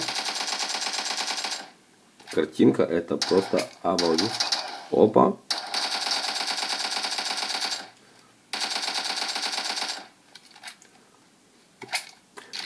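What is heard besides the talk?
gunfire in a shooter video game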